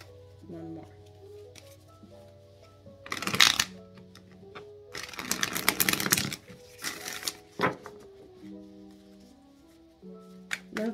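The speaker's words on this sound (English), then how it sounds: "Two more shuffles, okay?" Tarot cards shuffled by hand in a few brisk bursts of riffling and flicking between soft pauses, close to the microphone, with a voice speaking over a gentle musical backing.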